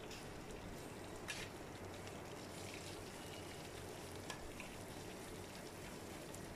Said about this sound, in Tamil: ஸோ இதோட வெங்காயமும் சேர்த்து இது ஒரு 2 to 5 மினிட்ஸ் வந்து நல்லா ஃப்ரை பண்ணிக்கலாம். ஹை ஃப்ளேமில் வச்சுட்டு